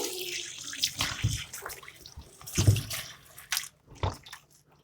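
Tap water runs and splashes into a sink while beef heart, lung and intestines are rinsed by hand, with uneven surges of gushing and dripping close by and no talking.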